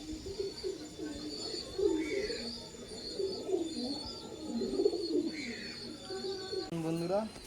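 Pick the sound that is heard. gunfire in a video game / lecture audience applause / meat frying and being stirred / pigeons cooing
pigeons cooing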